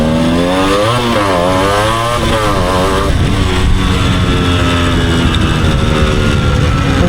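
A freshly rebuilt Yamaha RX two-stroke motorcycle engine being ridden, revving up and down through gears in the first seconds, then holding a steady, loud buzzing drone close by.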